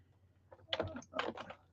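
Close, soft clicking of computer keyboard keys in two short bursts of typing, quiet and without talk.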